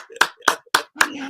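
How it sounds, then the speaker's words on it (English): Four quick bursts of hand clapping from a few people in a late-night football talk show studio, sharp separate claps about a quarter second apart, close and moderately loud. "You need a round of applause for that, man."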